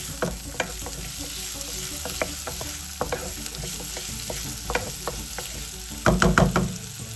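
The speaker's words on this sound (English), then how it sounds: "Fry the onions in the pot with the oil for about a minute." Onions frying in oil in a pot while being stirred, a steady close sizzle with repeated scraping stir strokes that grow louder near the end, no voices.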